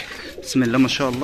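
Pigeons in a loft give close, soft cooing calls, a short low coo and then another, while someone speaks under them.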